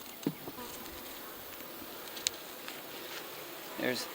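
Bees buzz faintly around an open beehive during honey harvesting, a steady low insect drone with a few brief louder passes close by, set against a quiet outdoor background.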